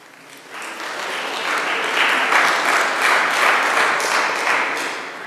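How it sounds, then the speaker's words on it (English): Audience applause fills a school chapel during a vestry election assembly, a steady wash of many hands clapping that swells after the first half second and holds loud and even before easing slightly at the end. "please hold your applause until all speakers have read"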